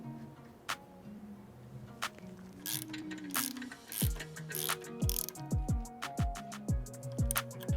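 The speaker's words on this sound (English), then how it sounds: "we can go ahead and tighten down these locking collars to help prevent the sway bar from shifting left and right" Ratchet clicking repeatedly while tightening the front sway bar locking collars on an A90 Supra, with rapid close pawl ticks in short bursts and metallic tool knocks between them.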